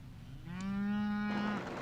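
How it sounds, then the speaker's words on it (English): A single cow on a southern Manitoba cattle feed lot gives one long, loud, nearby moo lasting about a second, rising and then holding steady before it cuts off, over a low background hum. "Blaine Peterson operates a cattle feed lot in southern Manitoba."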